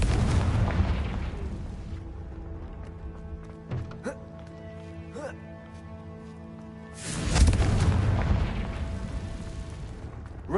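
Spell blasts from a Confringo fire spell in the video game Hogwarts Legacy: a loud burst at the start, two brief sharp cracks mid-clip, and a second heavy explosive blast near the end, over steady game ambience.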